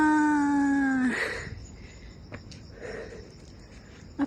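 A dog named Brody gives a long, clear, rising howl on a morning hiking trail, then breaks off into soft sniffs and faint rustling outdoors.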